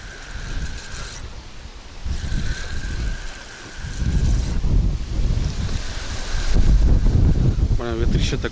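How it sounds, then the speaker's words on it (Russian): Strong wind blows by the water, roaring and buffeting the microphone in gusts that grow louder over several seconds, with lapping waves beneath and a voice speaking briefly near the end. "ветрище такой"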